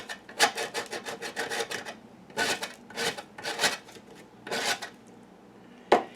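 A bar of homemade laundry soap is scraped across the finest side of a grater in quick rasping strokes, a few bursts each, close and fairly quiet, and a single sharp scrape comes at the end.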